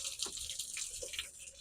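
A weak stream of water runs from a tap fed by a tankless water heater, a faint, thin trickle with small splashing flickers and no voices.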